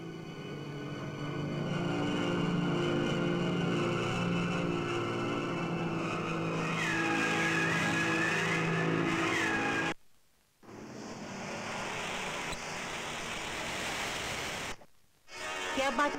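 A car in a period Indian drama cruises along with a steady engine drone and road noise, then the sound breaks off and the vehicle comes to a halt, leaving a quieter scene.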